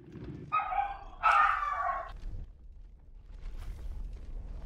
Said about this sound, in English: And the dog loses its mind.